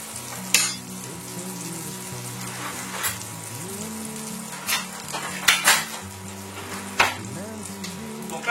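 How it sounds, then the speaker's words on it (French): Onglet beef steak sizzles steadily in a pan of oil and butter, with a few sharp clinks and scrapes of utensils rising over the continuous frying hiss. "Donc là j'ai fait un mélange d'huile et de beurre. Et cette viande là en fait je vais la cuire 2 minutes de chaque côté."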